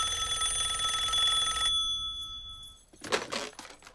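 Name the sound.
phone ringing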